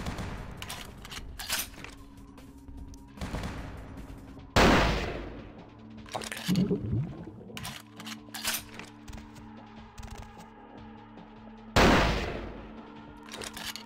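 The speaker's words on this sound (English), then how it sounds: "I'm sniping like a little sniper over here" Sniper rifle in Vampire: The Masquerade - Bloodlines fires sharp, spaced shots, two standing out as loud cracks several seconds apart, with smaller clicks and impacts scattered between them.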